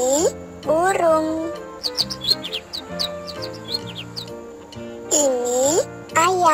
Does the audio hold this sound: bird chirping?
yes